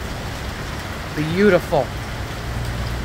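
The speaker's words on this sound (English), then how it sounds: "Nice big raindrops." Rain at New Smyrna Beach during a storm, a steady broadband hiss of big raindrops falling throughout, with someone speaking briefly in the middle.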